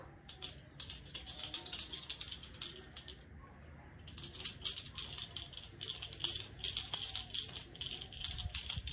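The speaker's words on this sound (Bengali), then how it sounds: "কি দারুণ ঘন্টা বাজালো" A small hand bell rings during a Christmas puja at home. Its bright, continuous jingling comes in sustained bursts, stops briefly, then resumes louder and close by.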